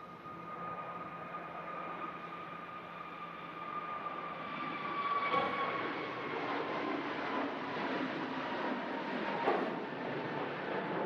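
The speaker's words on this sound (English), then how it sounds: "Gisuno on the roll. Brand new Airbus A321neo heading off to Paphos in Cyprus." A brand-new Airbus A321neo jet rolls for takeoff at Manchester Airport in strong winds, its engines a distant, steady roar that slowly swells over several seconds, with no voices.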